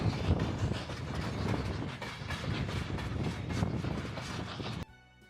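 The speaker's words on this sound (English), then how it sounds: "The train makes a sharp left-hand turn to enter the Y at the Keystone Mine." Nevada Northern Railway steam locomotive No. 81 runs on rails past copper mine waste benches, steady rumbling and clattering of wheels on track close by, ending abruptly.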